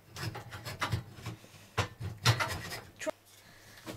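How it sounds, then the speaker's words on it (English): Rasping strokes of a file shaping the forks of a natural wooden slingshot, a series of uneven scraping bursts close by with brief pauses between them. "You can just use either of my file types; they work."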